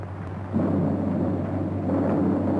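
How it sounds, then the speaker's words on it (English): A thunder sound effect from a 1935 Western sci-fi film serial is a low, rolling rumble that swells and lingers, deep and fairly distant, with no voices over it. "There's that thunder sound."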